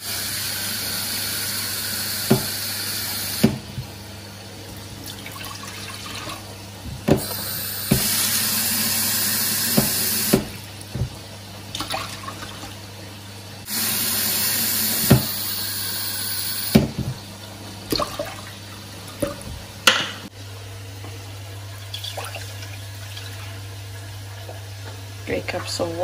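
Water poured from a container into a pot for cooking pink biko sticky rice with brown sugar, a steady splashing stream in several bursts, with a voice talking between pours.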